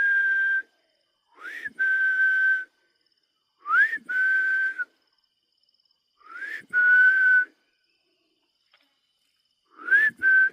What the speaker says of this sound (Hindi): वैसे सीटी बजानी नहीं चाहिए